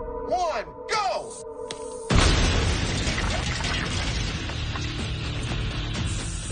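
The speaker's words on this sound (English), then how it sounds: "This is MacGyver, mail truck filled with cement and 84 pounds of dynamite." A mail truck filled with cement and 84 pounds of dynamite blows up in a sudden heavy blast after brief speech. A long, rumbling roar and debris noise follow and continue to the end.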